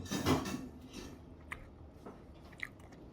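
Someone bites into a Costco Mila soup dumpling at close range: a soft, wet bite and chew up front, then a few faint squishy smacks and small clicks in a quiet room, with no talk.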